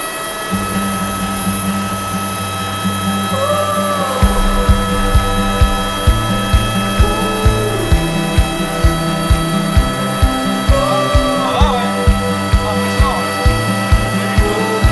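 Close up, a skydiving plane's engine drones loud and steady, rising into a heavier pulsing rumble as it gets going. People talk over the noise.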